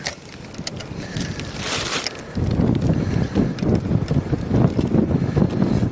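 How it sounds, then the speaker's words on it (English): Gusty wind at a lake buffets the microphone with a steady low rumble, growing rougher and louder partway through, with no voices. "it's very windy"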